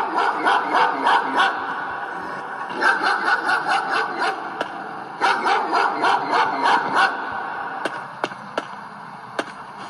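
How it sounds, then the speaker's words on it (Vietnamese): A dog barks in repeated rapid bursts inside the Siren Head horror forest game, with three clusters of loud barks followed by a few isolated single barks over a steady ambient background. "Ồ, có tiếng chó."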